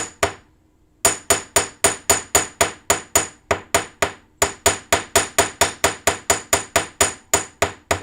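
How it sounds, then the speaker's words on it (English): A riveting hammer's blade repeatedly strikes metal to texture it with hatching, producing about two dozen sharp, evenly spaced, ringing taps after a brief opening blow and pause. "I'm going to use my, my riveting hammer."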